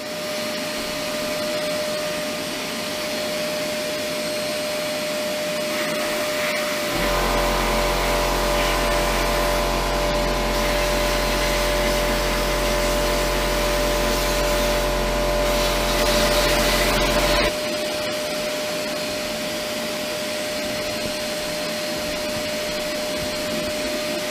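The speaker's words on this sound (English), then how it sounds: "And as the vacuum goes off" A dust extraction vacuum motor roars steadily for about ten seconds during a Triumph exhaust port thread repair, a loud droning whine that starts abruptly and cuts off, with quieter room noise before and after.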